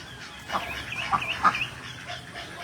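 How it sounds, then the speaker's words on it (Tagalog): Different kinds of chickens on a farm cluck in a few short, close bursts, with soft farmyard background between the calls. "ang iba't ibang klaseng uri ng manok"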